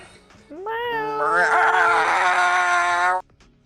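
A person in Overwatch voice chat does one long, drawn-out meow imitating a cat, rising in pitch and then held loud for about two seconds before stopping abruptly.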